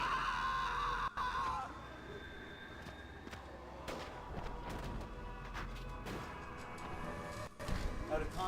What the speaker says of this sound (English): Out of context, those screams sound especially composed.